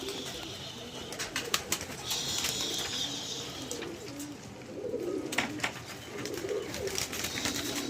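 Pigeons coo softly in low, repeated murmurs amid a busy outdoor backdrop, with occasional sharper chirps and flutters nearby as some pigeons fly off.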